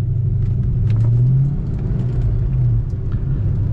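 A 1990 Ford Mustang GT Convertible accelerates out of a roundabout, its engine a deep, steady rumble with a droning note that climbs and then settles. The car is heard close by, with no speech over it.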